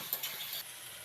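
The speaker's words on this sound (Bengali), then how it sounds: "অল্প ভাজা হয়ে গেলে দিয়ে দিব কুচি করে কাটা পেঁয়াজ আর রসুন। আলু সব একসঙ্গে একটু ফ্রাই করে নিব।" Chopped onion, garlic and potatoes fry in a pan with a short soft sizzle and a stir or two, quiet and close with no voices.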